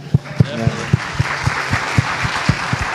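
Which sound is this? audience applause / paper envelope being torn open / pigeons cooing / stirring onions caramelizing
audience applause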